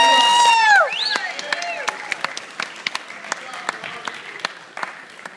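A crowd at a natural bodybuilding show breaks into loud applause and whooping cheers that fade into scattered claps and shouts, with an announcer's voice over the noise.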